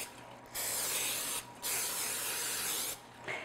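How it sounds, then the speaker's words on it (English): Non-stick cooking spray hisses onto a cake pan in three close, sharp bursts, each lasting about a second, with short pauses between them. "today I'm just going to spray it with a non-stick spray"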